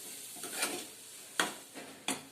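Vegetable curry with freshly grated coconut being stirred in a home kitchen pan, heard as a few separate scraping, clinking strokes of a spoon against metal over a soft background, with no talking.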